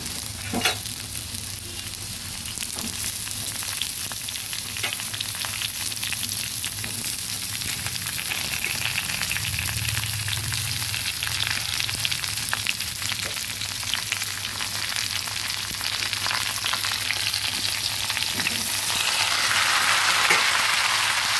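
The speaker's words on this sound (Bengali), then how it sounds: "এবার আস্তে করে দিয়ে দেবো ঝিঙেগুলো।" Ridge gourd goes into a pan of frying potatoes, and a steady, close sizzle with scraping stirring sounds runs throughout, growing slightly louder toward the end.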